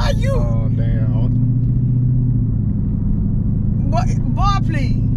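Car engine rumbling steadily at close range during a race against an old truck, a continuous low drone with a slight rise partway through, overlaid by excited voices at the start and end.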